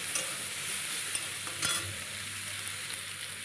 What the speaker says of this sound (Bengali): হালকা করে একটু ভেজে নিতে হবে সোয়াবিনটা